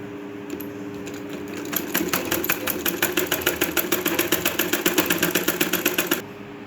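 A sewing machine running a diagonal seam across blouse sleeve pleats, its needle chattering in a fast, even run of loud close stitches for several seconds before stopping.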